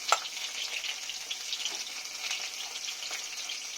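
Pointed gourds (potol) fry slowly in a pan with a steady, close, even sizzle that hisses on without a break, and no voices are heard.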